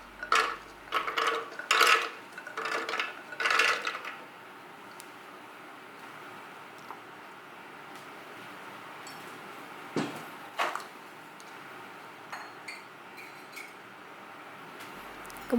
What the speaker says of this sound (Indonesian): Masukkan kacang almond ke dalam blender.